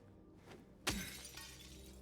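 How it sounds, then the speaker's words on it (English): A car window shatters in Silent Hill 2 Remake: one sudden loud crash of breaking glass that rings and tinkles out over low ambient game sound. "running around town smashing every single car window"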